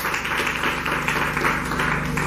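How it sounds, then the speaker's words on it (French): Audience applause at a girls' school excellence competition, a dense, steady wash of many hands clapping close and fairly loud over a low hum, with no talk. "Applaudir encore très fort."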